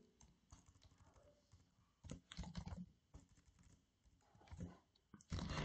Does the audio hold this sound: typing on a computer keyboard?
yes